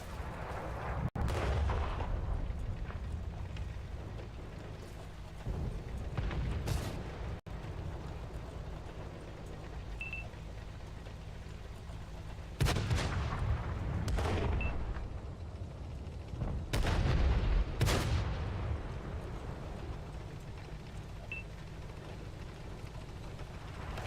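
Artillery fire strikes at a tank in a video game. Several heavy booming blasts with rumbling tails land at intervals over a continuous low engine drone, some paired in quick succession.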